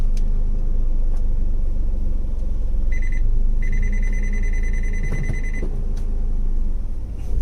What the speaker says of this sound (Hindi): ये जो बैक गियर दिया, साथ ही साथ आपको एक बीप आएगा, ये वाला बीप।